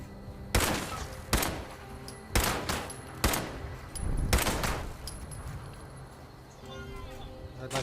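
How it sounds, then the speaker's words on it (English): Enemy gunfire in the video game Fallout 76, several sharp loud shots spaced about a second apart, then scattered fainter pops and rattling over background game noise, with a voice talking in between. "They're opening fire."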